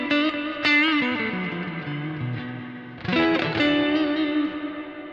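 Electric guitar played through a Kemper profile of a 1965 Fender Deluxe Reverb amp, sustained chords and single notes ringing with heavy reverb, a second strummed attack near the middle, no talking.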